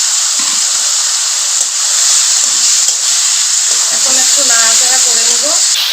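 Potatoes go into a pan of spice masala, setting off a loud, steady sizzle that fills the whole clip, with faint clatter and stirring noises toward the end.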